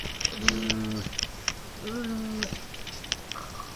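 A pig grunts in Minecraft, two short tonal calls a second apart, heard alongside clicking and tapping game noises.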